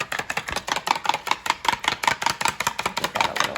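Egg and milk are whisked briskly in a bowl for breading eggplant cutlets. The utensil taps the bowl in quick, even rhythmic strokes, close and clear, with no talk.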